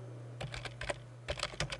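Keys clatter on a computer keyboard in two quick bursts of typing, close and crisp, separated by a short pause, over a low steady hum.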